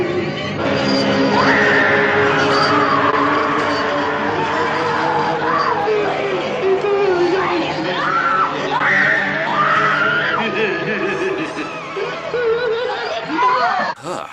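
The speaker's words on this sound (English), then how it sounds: "All this screaming." Shrill, sustained screaming from a woman in a horror film scene from The Texas Chainsaw Massacre, rising in repeated anguished cries over a busy background of other voices and noise, loud and close throughout.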